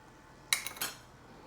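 Broccoli lands on a dinner plate with one short clink of utensil on china, then a couple of lighter taps, close and brief in a quiet kitchen.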